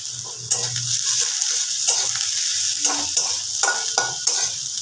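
Chopped green chilli frying in a pan, with a steady oil sizzle and repeated spatula scrapes and stirs at a close, fairly loud level.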